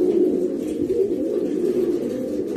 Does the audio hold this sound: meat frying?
no